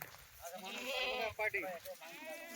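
Kathiawadi goats, pregnant does, bleating close by on a farm, a long wavering bleat followed by shorter broken calls, with someone talking quietly underneath.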